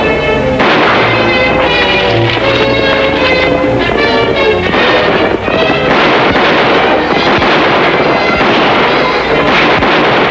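Loud gunfire rings out in a classic Western TV episode, dense overlapping shots and booms under continuous dramatic orchestral music.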